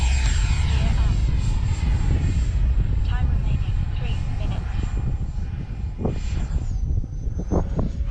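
A Freewing JAS-39 Gripen radio-controlled jet with an 80mm electric ducted fan flies around, its whining whoosh rising and fading as it passes, under a voice talking.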